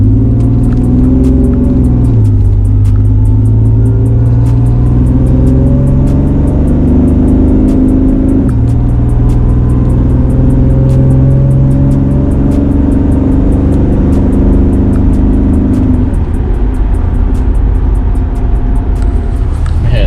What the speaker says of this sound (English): I'll give it some throttle, probably quarter throttle, and you guys can check out what it's reading.